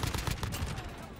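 Shotgun blasts in a tactical shooter match, loud and close, landing as a quick burst of rapid repeated booms over the whole moment, with a player's voice partly mixed in.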